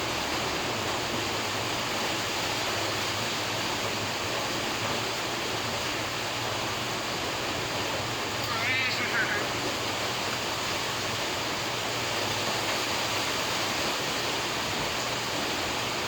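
Water flows steadily in a stream, a constant broadband rush close by. A voice briefly sounds over it near the middle.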